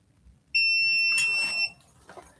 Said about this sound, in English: It's making my metal detector beep.